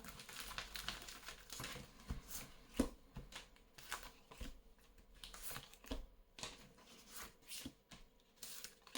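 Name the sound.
shuffling and drawing tarot cards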